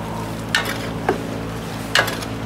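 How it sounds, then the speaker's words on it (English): A large spoon scrapes through a 100-gallon pot of Cajun food cooking over a fire, three distinct scraping strokes against a steady bubbling, sizzling background. "Let's give it a little stir"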